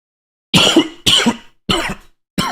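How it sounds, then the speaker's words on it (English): A man coughs four times in a row, loud and close, each harsh burst lasting about half a second with short silent gaps between. "Damn, I'm not used to coughing."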